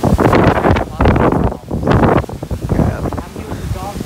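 Strong, gusty wind blows outdoors at a house, buffeting the microphone in loud, rough bursts that rise and fall. A voice is faintly audible underneath.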